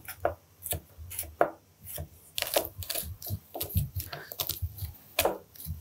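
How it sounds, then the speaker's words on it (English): Garlic cloves being trimmed and crushed with a knife on a board, a series of sharp close knocks and crunches in an irregular rhythm, with some scraping between strikes. "we're just gonna trim off the woody root end of these garlic cloves and crush them"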